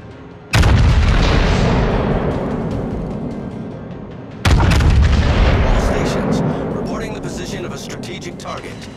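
Battleship Musashi's main guns fire in World of Warships, two huge booms about four seconds apart, each rolling out into a long fading rumble, loud and close, with some voice under the echoes.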